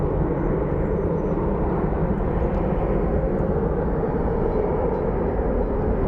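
A plane touches down at Phoenix Sky Harbor airport, a steady, loud roar of engines and rushing air that holds for several seconds with no voices.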